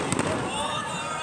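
Fireworks finale at a beach show, a dense crackling barrage with sharp bursts near the start, loud and continuous, with a voice talking over it.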